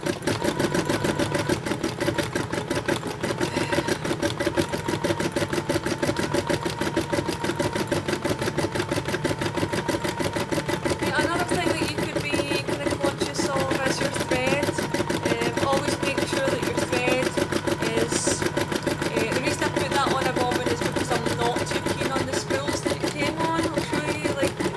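A Janome MC9000 embroidery sewing machine runs steadily for the whole stretch, a fast, even mechanical stitching hum with light rattling and occasional faint clicks, close and continuous with no talk over it.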